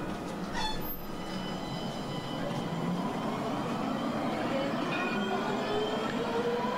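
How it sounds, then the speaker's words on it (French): A tramway rolls past in a continuous loud rumble, with faint wheel squeal rising toward the end. No one speaks over it. "Je pense que vous avez pu reconnaître ce magnifique son, il s'agit bel et bien du tramway"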